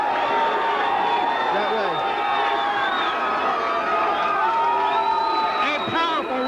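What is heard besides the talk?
crowd cheering loudly at a fight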